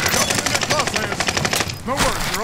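Rapid automatic gunfire in the Pacific-theater shooter Warzone Pacific, a dense stream of sharp shots fired at close range, briefly broken before another burst.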